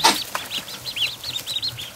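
Goslings being moved to a barn give repeated high, thin peeping calls in a quick run of chirps, close by and fairly clear with little else around.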